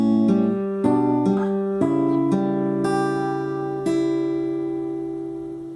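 An acoustic guitar picks the fingerpicking pattern from a song, plucking notes one after another so they ring and overlap into sustained chords, close and clear with no voices.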